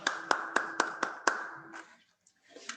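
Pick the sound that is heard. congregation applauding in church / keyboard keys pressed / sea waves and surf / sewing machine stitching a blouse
congregation applauding in church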